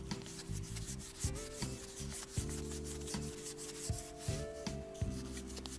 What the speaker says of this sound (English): Rub it very gently up and down the full length.